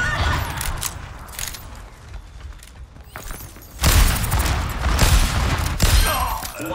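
Gunfire in the video game Overwatch 2 from the hero Ana's sniper rifle, with sharp loud cracks and dense bursts of shooting amid busy game noise.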